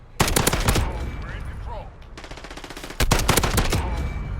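Rapid bursts of FAL battle rifle fire from the Modern Warfare video game, two loud volleys of sharp repeated shots separated by a quieter pause, close and punchy with no talking.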